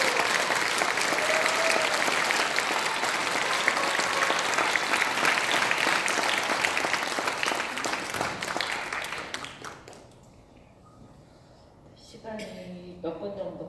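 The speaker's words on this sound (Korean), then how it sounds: "뜨거운 박수 한번 주십시오." A large crowd gives sustained, loud applause for about ten seconds, then it fades out and a single voice begins speaking.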